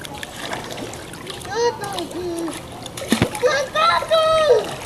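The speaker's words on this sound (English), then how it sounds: "She wants you to go under the water." A small girl is dipped under water, and splashes break out around her while she and adults talk and make excited sounds close by.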